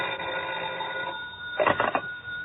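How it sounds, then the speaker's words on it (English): Old-time telephone bell ringing as a radio drama sound effect, a steady electric ring that stops and is followed by a short louder burst of ringing, clear and close. "I received a phone call."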